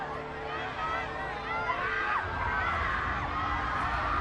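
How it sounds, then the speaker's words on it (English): Fans scream at a Harry Potter and the Deathly Hallows Part 2 red carpet premiere, a steady wall of high, wavering shrieks and crowd noise at middle distance. "The screaming is amazing."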